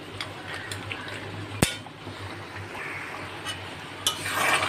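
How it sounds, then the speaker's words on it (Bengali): Water poured a little at a time into a pan of meat curry being cooked down with oil, a soft liquid pour and sizzle under a steady low hum, with a sharp clatter near the middle and another toward the end. "অল্প করে জল দিয়ে আমি ঢেকে দেবো।"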